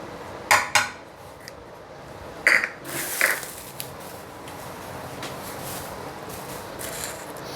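Chopped onion tipped into a cooking pot: a few sharp clatters and clinks of pot and utensil in quick bursts, then a soft, lingering rustle and low hum.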